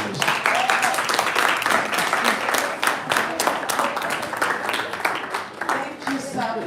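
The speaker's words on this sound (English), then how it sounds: "Let's keep clapping." A conference audience at a seminar claps in a dense, sustained round of applause that fills the whole stretch at steady loudness, with voices mixed into the crowd noise.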